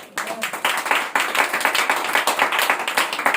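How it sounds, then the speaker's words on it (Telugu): Church congregation clapping loudly during a Telugu sermon, a dense run of many hands striking together that holds steady for a few seconds after a brief quiet start. "గట్టిగా చప్పట్లు కొట్టండి"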